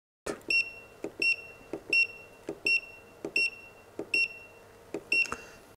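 A PAN Allrounder 200AD current and voltage tester beeps eight times in a steady rhythm as its operating button is pressed repeatedly, each short electronic bleep paired with a soft click, close and fairly quiet.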